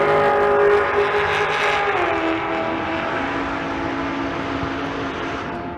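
A Nissan GT-R launches down the drag strip at Bandimere during Race Week 2023, its engine roaring loud and close, then shifting and pulling away as the pitch steps and the sound slowly fades with distance.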